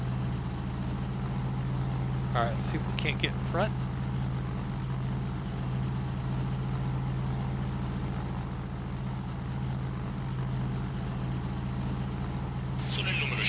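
The carburetted engine of an MC200 Saetta fighter in the flight sim IL-2 1946 drones steadily with a low, constant hum, while someone speaks briefly over it.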